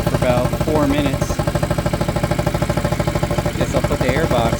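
A Motobravo Roma 150cc scooter engine idles close by with a fast, steady putter and rattling vibration, while someone talks over it.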